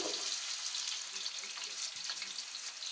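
Sliced carrots for kabuli pulao fry in oil over a high flame, giving a soft, continuous crackling sizzle with small pops, fairly faint and with no talking.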